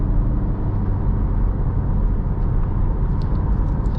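A 2023 Acura Integra A-Spec driven through corners, its engine and road noise forming a steady, moderately loud rumble heard from inside the cabin, with no talking.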